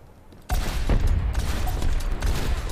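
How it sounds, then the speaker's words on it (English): Fireworks bursting in the first-person shooter Overwatch, a sudden loud onset of dense crackling pops and booms that continues steadily with game ambience, no talk over it. "Fireworks!"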